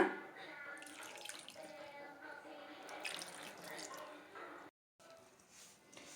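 Water is poured into flour and mixed by hand to form puri dough, with soft trickling, squishing and wet kneading sounds, fairly quiet, alongside a person talking, with a brief silent gap near the end.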